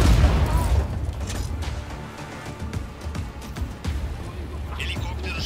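A backup generator at a shipyard blown up in the action game Just Cause 4, with heavy booms and crackling blasts under loud game sound, and a voice speaking over part of it.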